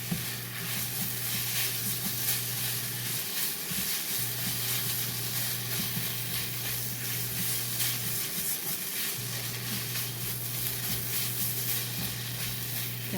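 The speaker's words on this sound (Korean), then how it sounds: "이렇게, 이렇게 해서 살짝만 볶을게요" Fish cake being lightly stir-fried in a pan, a steady broadband sizzle with continuous stirring scrapes and a low hum throughout, no talking.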